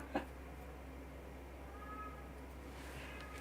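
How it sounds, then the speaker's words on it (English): A pet cat named Cupcake yowls from downstairs, a faint, distant wavering cry around the middle of the stretch, set low under steady room hum. "Oh, you hear my cat in the background?"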